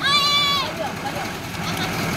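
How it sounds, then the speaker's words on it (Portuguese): A truck engine idles close by with a steady low rumble that fills the whole stretch, and brief whistling tones at the very start. People are heard talking near the idling truck. "deixa o caminhão parar de fazer barulho"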